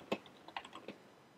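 Computer keyboard typing code, a short quiet burst of a few distinct key clicks spaced unevenly over about a second and a half, close and alone.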